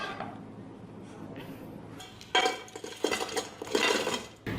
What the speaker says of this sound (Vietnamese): Em cắt nhỏ ra để mình nấu cho nó dễ nè.